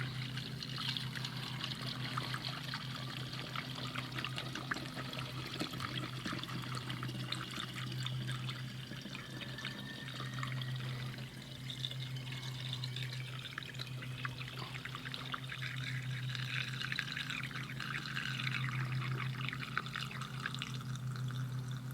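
Greenish kerosene poured into a transport container, a steady trickling pour that runs continuously at close range with no talking.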